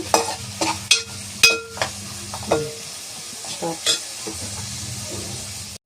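Onions frying in a pan crackle in a low sizzle, broken by a series of distinct scraping and clinking stirs against the metal.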